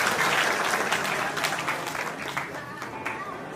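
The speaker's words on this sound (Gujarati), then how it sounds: "એકવાર જોરદાર તાળીઓથી બજાવી લઈએ." Applause from an audience at a family reunion gathering in Surat, broad steady clapping from many hands that holds strong throughout and eases slightly toward the end, with faint voices mixed in.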